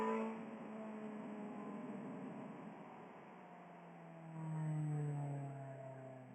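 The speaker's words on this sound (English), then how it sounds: "I love the sound of this car." A car engine drones steadily while driving a winding mountain road, Alt. 74 near Bat Cave, North Carolina, its pitch climbing and swelling briefly in a rev before settling, moderately quiet under wind noise.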